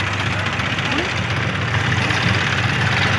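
Tractor engine idles nearby at a mustard field in rural India, a loud, steady low rumble with a constant knock, and people talk over it.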